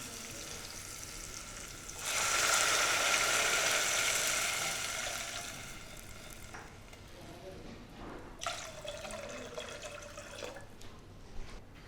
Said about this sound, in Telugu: ఇప్పుడు వాటర్ వేసుకుందాం